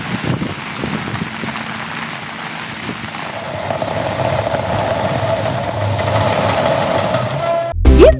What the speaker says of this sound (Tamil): கனமழை வெளுத்து வாங்கியது இதன் காரணமாக சாலைகள் மற்றும் தாழ்வான பகுதிகளில் மழைநீர் பெருக்கெடுத்து ஓடியது